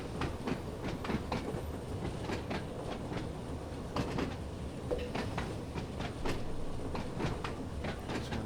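A video game train in Train Sim World on the Isle of Wight line, moving in shunt, rolls steadily along the rails with rhythmic clickety-clack of wheels over joints, a continuous moderate rumble underneath.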